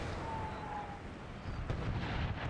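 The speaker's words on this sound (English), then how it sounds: "Look at all the artillery that is just... hitting this field." Artillery shells strike a field in Napoleon Total War during an American Civil War battle, giving a dense low rumble of distant impacts with a sharper crack near the end.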